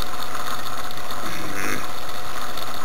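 A Bedini turbo stage 2 motor circuit runs in the background with a steady, even mechanical hum and buzz. It stays constant, with no talking over it.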